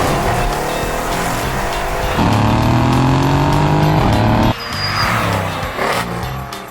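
A Mercedes E63 AMG with a custom mid-pipe exhaust revs hard, its loud rising engine tone climbing then cutting off abruptly, followed by crackling, burbling exhaust pops and a rough idle, close and dominant.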